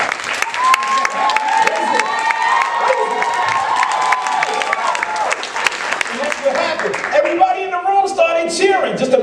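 A crowd in a conference room erupts into loud, sustained cheering and applause, with shouts and whoops carrying through the whole stretch.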